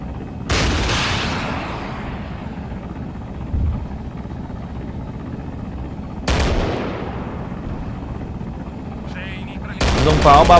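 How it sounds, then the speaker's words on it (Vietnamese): Bursts of 30 mm cannon fire from a Mi-28N attack helicopter in the military game ARMA 3: three loud, sharp volleys spaced several seconds apart, the last a rapid rattling string, over a steady rotor drone. "Dùng pháo 30 ly để tấn công các mục tiêu mềm."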